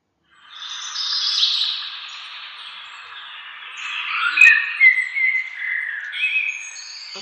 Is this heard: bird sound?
yes